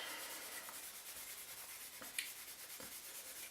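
A Scotch-Brite pad scrubs an arrow shaft in quick, soft back-and-forth strokes, a dry hissing rasp heard up close and alone, with a few small knocks.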